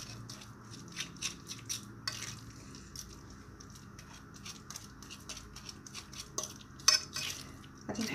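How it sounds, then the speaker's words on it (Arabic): A spoon stirs and scrapes a mixture in a pot during home lunch preparation, giving irregular light clinks and taps over a soft background hiss. "غادي نحاول نخلط مزيان"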